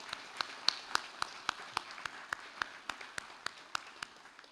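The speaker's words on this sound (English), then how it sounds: "let's please give a round of applause and appreciation for the staff" Graduation ceremony audience applauding for the honors college staff, heard as a steady wash of many hands clapping with sharper individual claps standing out at an even pace.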